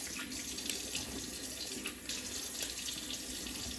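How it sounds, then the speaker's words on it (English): Tap water runs steadily into a sink as items are rinsed off. The hiss is continuous and fairly close, with faint splashes shifting in the stream and no voices. "let's tempt fate and rinse all this off and see what happens"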